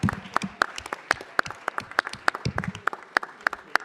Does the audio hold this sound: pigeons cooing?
no